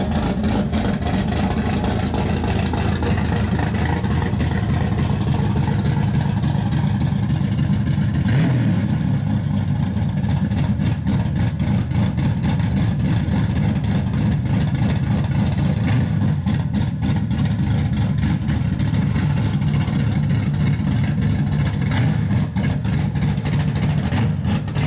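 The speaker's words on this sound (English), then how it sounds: "a 1970 Mustang with a 572 John Kaase motor" A 1970 Ford Mustang with a big-block 572 John Kaase engine rumbles loudly and close, idling with a deep, choppy lope and blipping revs, no talk over it.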